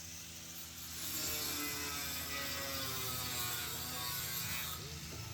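Power grinder working rust off the metal keel of a salvaged sailboat at a marina, a steady loud abrasive whir with a rattling mechanical edge that builds after the first second and holds throughout.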